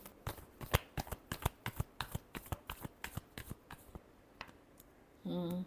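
Tarot cards being shuffled, a quick run of crisp riffling flicks and taps in a steady rhythm, close and fairly quiet, fading out before a short tonal beep at the end.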